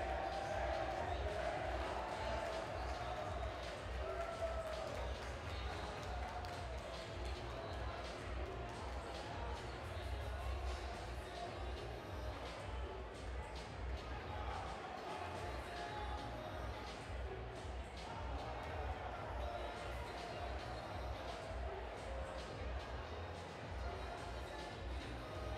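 Crowd cheering and roaring at the Broad Street Ballroom fight event, a dense, continuous din of voices that stays loud but distant throughout.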